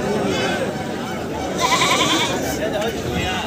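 A large goat at a livestock market in Dildarnagar, bleating amid crowd chatter and talking voices nearby, with a brief louder burst midway.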